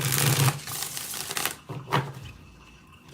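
Tarot cards are riffled and shuffled up close, a burst of quick crisp flutters followed by a shorter riffle, then quiet.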